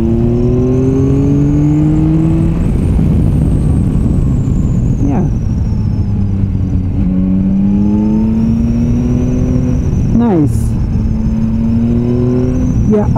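A Yamaha Tracer 9 GT motorcycle accelerating hard through second and third gear: a loud engine note climbs steadily, drops at each shift and climbs again, heard from on board with rushing wind.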